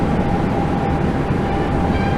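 A train passes by in a Seoul metro simulator game, heard as a loud, continuous rumbling roar with a faint steady whine running through it, close and alone without any talk.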